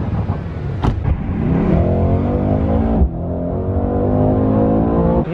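Mercedes-AMG C63S with 510 hp revving and accelerating at a car event in Warsaw, a loud, steady engine roar with a brief sharp blip near the start and another surge midway, close to the microphone with no talk.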